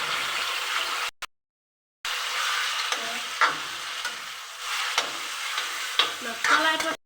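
Meat sizzling and frying in hot oil in a pan while biryani is being made, with steady loud sizzle and scraping stir noises; a brief silent gap interrupts early on, then stirring clatters continue alone.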